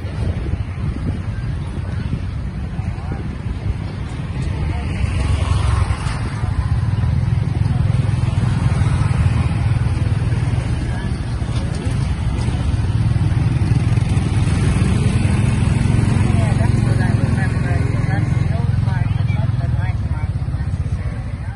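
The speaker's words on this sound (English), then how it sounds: "So here we are in a tuk tuk." A small tuk tuk motorbike engine in Thailand drones steadily with heavy wind rush while riding, louder in the second half, with a voice talking over it.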